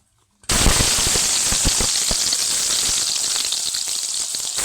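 Washed potato pieces sizzle loudly in hot white oil in a wok, a dense crackling hiss that bursts in suddenly after a brief silence and holds steady with sharp pops throughout.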